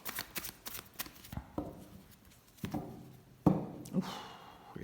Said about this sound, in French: De Light Seers Tarot, on va poser les 5 cartes de l'arbre.